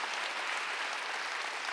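Church congregation clapping together during a sermon, a dense, even burst of applause filling the space, brief and steady with no voices over it.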